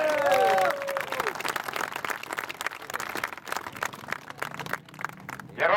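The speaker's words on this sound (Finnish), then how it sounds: "Marko Rotlaan, Estonia, aplodit Markolle." Crowd applause and cheering for the winner mounting the top step of the podium at a 2006 Alastaro race meeting, steady clapping throughout with a Finnish announcer talking over it.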